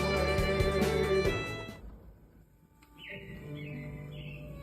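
Robins chirp in an animatronic attraction show at Disney's Carousel of Progress, with repeated short bright calls in the second half following fading music.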